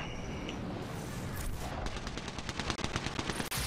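Rapid bursts of automatic gunfire in an Apex Legends firefight aboard an airship, loud and close, with dense cracking volleys building toward the end of the clip.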